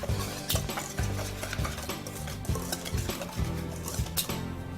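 Dry ingredients including baking cocoa being stirred in a bowl, a close rhythmic series of scraping strokes and utensil knocks against the bowl, about one every half second, with no talking.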